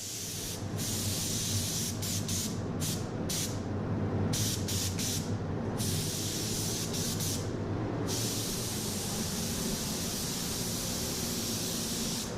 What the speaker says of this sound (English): I usually spray my base coat around 19 psi.